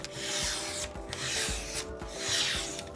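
A freshly sharpened kitchen knife, finished on a 6000 grit whetstone, makes test cuts in a series of steady rubbing, rasping strokes, close and fairly loud, with brief pauses between strokes and no talking.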